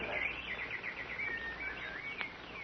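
Small songbirds chirp and warble as a radio drama sound effect, a steady run of bright twittering calls that rises and falls in quick phrases with one sharp chirp near the end, alone and fairly close.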